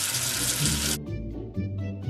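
Water gushes steadily from a tap for about a second, washing soap off a paper letter in a cartoon, then cuts off into quieter background sound.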